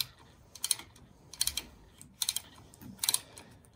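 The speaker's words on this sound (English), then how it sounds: "with the ratcheting wrench is that you're able to really kind of torque down on this thing and really get it to expand" Ratcheting wrench tightening a bolt on a Polaris RZR KRX EMP lightbar mount, four short bursts of rapid clicking at roughly even intervals, close and crisp with no talking.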